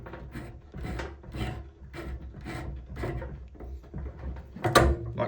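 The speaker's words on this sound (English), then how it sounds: "grab your grips, lefty-loosey, and unspin this nut here" Grips unscrewing the nut of a thermostatic radiator valve, giving a series of close, rhythmic scraping and creaking turns with a sharper metallic click near the end.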